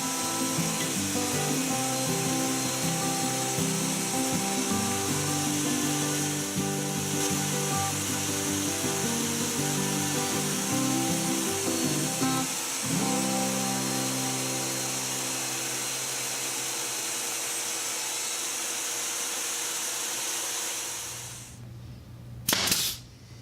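A table saw ripping wood side panels to 5.5 inches wide for a tractor ballast box: a loud, steady whine and cutting roar runs for about twenty seconds, then the blade spins down and goes quiet, with a couple of brief knocks at the end.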